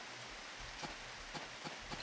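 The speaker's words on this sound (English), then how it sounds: "Rain again!" Rain falling in a farming video game, a faint, even hiss of steady rainfall with a few soft drop ticks scattered through it, heard alone with no voices.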